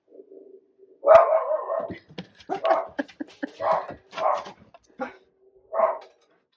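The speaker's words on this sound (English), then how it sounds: "The dog shouting outside." A dog barks outdoors in a series of loud, separate barks and yips with short gaps between them, heard alone with no talk over it.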